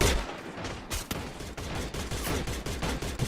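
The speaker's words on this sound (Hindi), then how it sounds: "दोनों तरफ से गोलियां चल रही है" Gunfire in the battle-royale video game Free Fire during a tournament match, with rapid bursts of loud shots crackling in quick succession over about three seconds and no voices.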